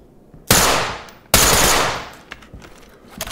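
Two loud, close bursts of automatic gunfire in the tactical shooter game Ready Or Not, each a dense crack with a decaying tail, followed by faint clatter.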